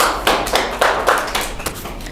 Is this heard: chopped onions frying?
no